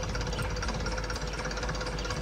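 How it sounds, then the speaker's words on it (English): In a historical farming simulator game, a tractor engine runs in a steady, close, knocking chug that holds an even rumble throughout, with no voices. "we can have the tractor continue running and the lights on"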